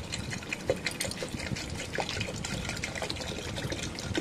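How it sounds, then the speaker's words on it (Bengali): Water from a bottle pours into a pan of frying dalia and spices, making a continuous close gushing splash with bubbling and sizzle throughout. "এবার আমি ওর মধ্যে জল দিয়ে দিলাম"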